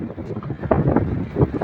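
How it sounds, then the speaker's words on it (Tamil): Strong wind buffets the microphone at the Creek Harbour waterfront, a continuous rumbling roar with gusty surges, while a person talks over it. "காற்று ரொம்ப அடிக்குது, கேட்குதான்னு தெரியல"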